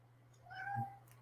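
A cat gives a single short meow indoors, fairly soft and close, over a steady low hum in the room.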